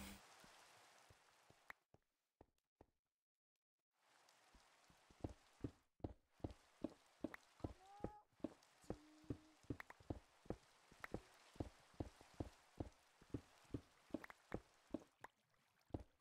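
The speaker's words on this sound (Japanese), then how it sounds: "あ、雨がやかましいな。" Rain patters steadily in a video game world, sounding as a series of sharp, evenly spaced drips and taps after a brief silent gap, fairly quiet and close, with no talking.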